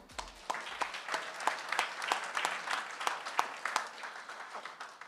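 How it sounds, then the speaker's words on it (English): A crowd applauds steadily at a horse racing awards ceremony, with dense sharp claps sustained at moderate loudness throughout and no speech. "deserves an extra round of applause"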